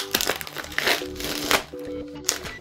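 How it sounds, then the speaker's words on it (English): Protective plastic film being peeled off a new Acer Aspire Switch 10 tablet: a run of crisp, crinkling rustles and short crackling bursts, close by, with faint murmuring under it. "What we'll do, we'll peel off the plastic"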